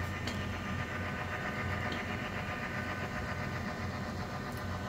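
Athearn Genesis MP15 model locomotive with a sound decoder, giving a steady low diesel idle rumble that runs continuously and evenly at moderate level throughout, with no talking.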